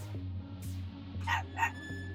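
A dog named Babito in The Darkside Detective gives a few short yips and barks, soft and somewhat distant, over a low humming game background.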